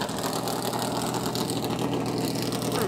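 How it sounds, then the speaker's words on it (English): NASCAR race car engines rumble steadily in a garage area before a race, a loud continuous idle with a droning low tone and no pauses. "That sweet sound of some engines tuning up."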